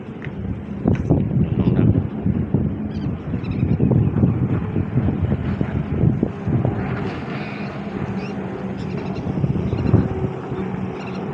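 Jet skis race on open water at a jet ski race, giving a continuous rough engine drone mixed with heavy wind buffeting and water noise, fairly loud throughout.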